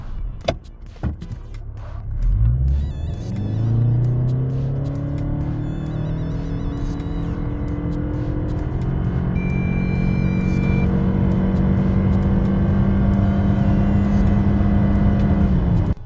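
A new 2025 Toyota Camry sedan accelerates hard from a standstill during a timed test, its engine note climbing steadily in pitch over several seconds, loud and close from inside the car.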